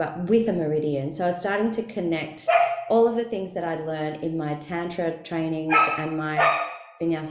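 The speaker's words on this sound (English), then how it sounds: "sorry, that's my dog" A pet dog barks a few times indoors, its short yips mixed under a person's continuous calm talking.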